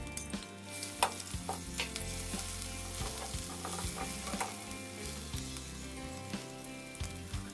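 Finely pounded chili, garlic and shallot stir-fry in a little vegetable oil in a pan, a faint continuous sizzle broken by light, regular scraping stirs, with no speech.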